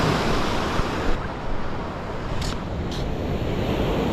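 Waves wash onto a crowded beach under steady wind, a dense, loud roar of surf and wind buffeting with no clear voices.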